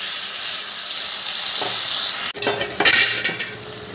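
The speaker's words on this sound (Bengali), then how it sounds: "এবার আমি ওই টমেটো, আদা, কাঁচা লঙ্কার যে পেস্ট বানিয়ে রেখেছিলাম সেই পেস্টটা দিয়ে দিলাম।" Hot oil hisses steadily, then a tomato, ginger and green chilli paste drops in with a sharp burst, and loud, spitting sizzles follow close by, along with a few light scrapes.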